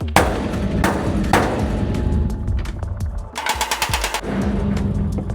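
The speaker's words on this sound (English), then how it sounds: "I think we'll bang that in with a hammer" A hammer bangs a metal sheet into place on a navy patrol boat repair: a few loud, ringing metallic strikes spaced apart, then a quick rattling flurry of hits, close by over workshop background noise.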